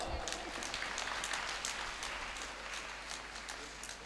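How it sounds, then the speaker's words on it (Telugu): A congregation at a church feast for St Anthony claps together in sustained, dense applause, steady and moderately distant for about four seconds with no pauses. "మనం కూడా మనకొకసారి గట్టిగా చప్పట్లు కొట్టుకుందాం."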